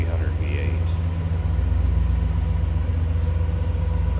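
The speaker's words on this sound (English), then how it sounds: "No crazy exhaust, about what you'd expect out of a stock Buick 300 V8." A stock 1967 Buick Skylark convertible with its 300 V8 idles in a low, steady rumble, close and even, with someone talking over the engine throughout.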